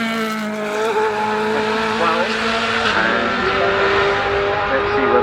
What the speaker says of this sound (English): We've got Johnny Cicotto coming out and the BMW M3 DTM E92